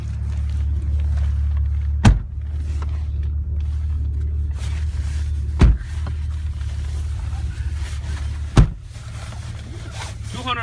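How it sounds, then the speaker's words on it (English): A 2002 Ford Taurus LX wagon with a 3.0 V6 drives along, its low engine and road drone steady and close throughout, broken by a few sharp thumps, with no talking. "Let's take you on a quick test ride."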